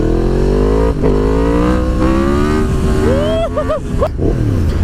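A 1000cc motorcycle accelerates hard with the front wheel lifting, its engine note loud and close, climbing steadily, then breaking into sharp revving bursts toward the end.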